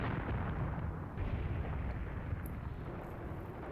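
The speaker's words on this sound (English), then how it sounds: "Obviously, that's our howitzers, our 105s that are firing there." Dense, continuous low rumble of 105 mm howitzers firing in the Graviteam Tactics war game, heavy distant booms blurring together into a steady roar with no voices.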